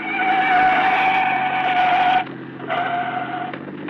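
A police car races through a radio drama chase, its engine a loud, steady droning whine that dips briefly partway through and then resumes, with no voices.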